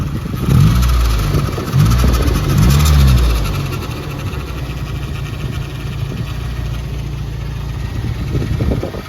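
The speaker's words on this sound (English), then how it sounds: "I think it's my power steering pump that's making that horrendous sound" A Nissan 240SX engine idles steadily and loudly, a thin high-pitched whine from a failing power steering pump running constantly over the low rumble.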